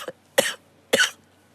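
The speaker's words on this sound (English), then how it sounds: "I felt a cough coming up." A man coughs twice, sharp and close, with a short bark just before; the coughs are spaced about half a second apart against a quiet room.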